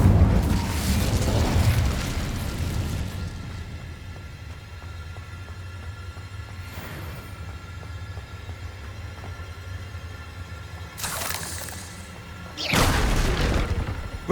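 Incendio fire spell cast in Hogwarts Legacy, heard as a loud whooshing boom up front followed by quieter rumble, then two more sharp bursts near the end, with no talking.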